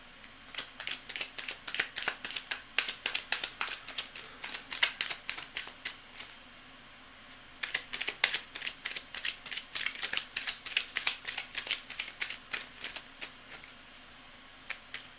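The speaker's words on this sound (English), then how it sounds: "I'm just going to shuffle everything up." A tarot card deck being shuffled after a reading, with quick bursts of riffling and snapping cards in two long runs separated by a brief pause, fairly close and quiet, with no voices.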